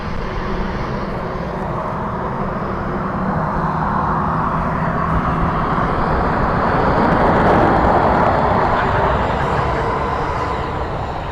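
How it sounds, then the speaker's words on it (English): A FedEx aircraft departing a runway at Dublin Airport roars with a loud, steady broadband jet rush that swells slightly toward its peak before easing, heard continuously and without speech. "The piercing plane."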